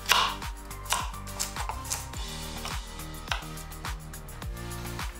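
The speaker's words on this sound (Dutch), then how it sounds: "dan gaan we ook die in kleine blokjes snijden." Knife chopping vegetables into small cubes on a cutting board in a kitchen, a steady series of sharp, close chops at an even rhythm with no talk.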